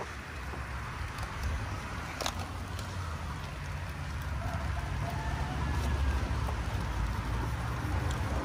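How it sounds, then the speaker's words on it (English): Rain falls steadily on a home garden during a harvest, a dense, even hiss with occasional sharper drops close by, continuous and fairly loud throughout. "Harvest in the rain."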